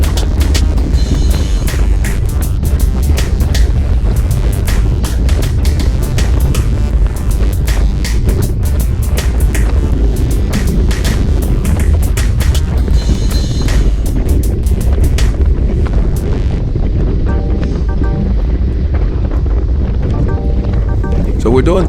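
Headwind roaring across the microphone while riding a bicycle fast up a climb with a group, loud continuous buffeting gusts that ease slightly toward the end.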